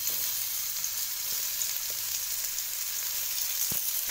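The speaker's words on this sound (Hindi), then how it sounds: "लीजिए, अब डालेंगे इसमें प्याज।" Onion frying in a hot pan, a steady, dense sizzle heard close and evenly for the whole stretch, with a couple of faint knocks.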